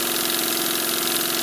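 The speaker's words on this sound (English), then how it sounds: "The Trojan engine's built by Westbury" A Westbury Trojan model steam engine runs with a continuous, steady mechanical drone and fine rapid rhythmic beat, loud and close with no pauses.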